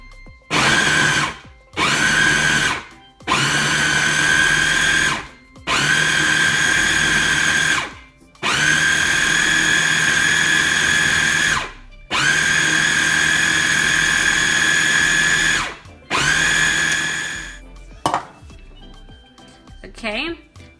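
A kitchen chopper chopping green seasoning ingredients, its motor whining in a series of loud pulsed bursts of a few seconds each with short pauses between, then a quieter tail.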